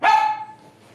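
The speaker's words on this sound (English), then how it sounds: "That was my dog." A single loud, close dog bark rings out sharply and then trails off quickly into near silence.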